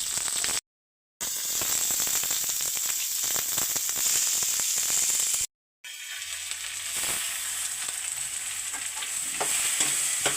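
Meat frying in a pan for a home-cooked meat and pumpkin curry, a steady loud sizzle with stirring scrapes, broken by two short silent gaps.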